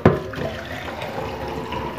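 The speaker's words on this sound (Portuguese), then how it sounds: "Vou colocar mais um pouco de água," Water poured from a tap or jug into a cooking pot on a lit stove in a home kitchen, a brief splashing onset settling into a steady, close running-water wash with no talk.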